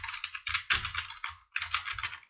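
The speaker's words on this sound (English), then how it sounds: "So now I'm currently working with an external keyboard. I don't know if you can hear it." Quick, steady typing on an external computer keyboard, with dense clattering keystrokes in close succession and a brief pause near the end. It is heard close up, with no talk.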